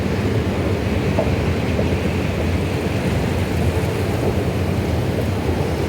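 An airport train on Jakarta's rail line rumbles with a steady, loud, broadband roar of wheels and carriage noise, unbroken and without voices throughout.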